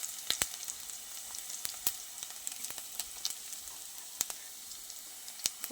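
Garlic tempering with curry leaves, chilli and onion sizzles steadily in hot oil over a low gas flame, giving a continuous close crackle broken by sharp pops scattered throughout.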